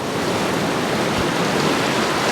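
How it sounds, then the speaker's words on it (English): Big ocean waves from heavy sets roll and break in steady, continuous roaring surf, loud and close with no talking over it. "Some really big waves coming through."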